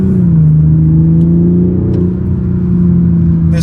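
Turbocharged Toyota Supra engine pulling hard under acceleration, a steady loud droning hum from inside the car with a slowly shifting pitch and no talk over it.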